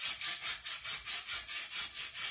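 Soft marble tile edge rubbed with 80 grit abrasive in quick back-and-forth strokes, a steady rhythmic gritty hiss close by, about ten passes with no talking.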